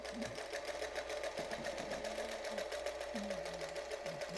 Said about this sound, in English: I would love to be able to just sew on this Featherweight.